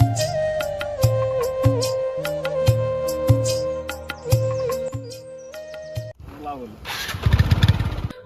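A motorcycle engine idles steadily with a repeating putter after repair at a village market, then revs and catches with a louder rough burst near the end; voices talk faintly in the background.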